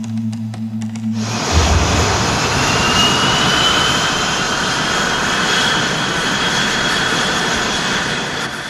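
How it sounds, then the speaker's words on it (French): Aircraft jet engines spool up on their own, starting abruptly after a second of quiet and building into a loud, steady whine and roar with a rising high-pitched tone that holds to the end. "Les moteurs de l'avion se sont mis en route tout seuls."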